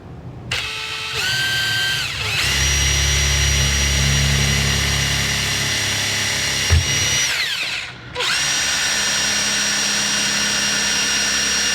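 A power drill bores holes in a metal powder coating hopper part, a loud close whine rising and settling in pitch over two long runs separated by a short pause.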